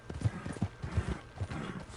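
Horse hooves trot in Red Dead Redemption II with a steady, even clip-clop rhythm at close range over a soft outdoor background, with no talk.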